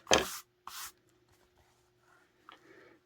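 Scissors cut fabric for a soft journal cover, giving two short close snips at the start and a fainter one near the end, with quiet pauses between them.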